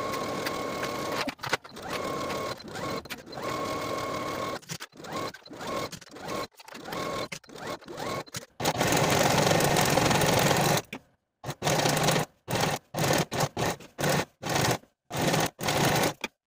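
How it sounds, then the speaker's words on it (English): A serger sews side and shoulder seams on a kimono jacket in loud, close bursts, long runs at first, then a sustained stretch and a series of short, rapid spurts with sharp stops between. "I'm going to be using my serger."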